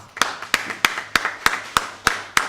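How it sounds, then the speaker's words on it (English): A single pair of hands claps in a slow, even rhythm, about eight sharp claps spaced roughly a third of a second apart, close and fairly quiet, at a sugar-industry meeting where the audience is invited to applaud itself. "let's give ourselves a big round of applause"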